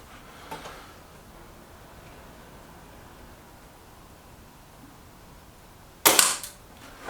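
A Reximex Zone air rifle fires pellets at a target, two sharp isolated cracks, a faint one early and a loud, close one near the end, with quiet room hiss between.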